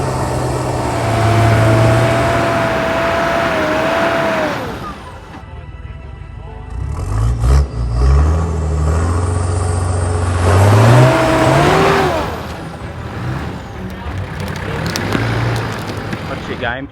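A 4WD vehicle's engine revs hard on a steep mountain track in Tasmania near Black Bluff, with loud, rising and falling surges, a lull in the middle, then another strong rev, heard close up.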